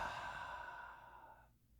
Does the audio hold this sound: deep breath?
yes